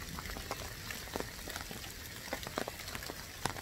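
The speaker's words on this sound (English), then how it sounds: "A little bit of rain." Light rain falls steadily, a soft continuous patter with scattered distinct drops, fairly faint and with no talking.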